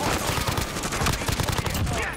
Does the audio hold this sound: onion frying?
no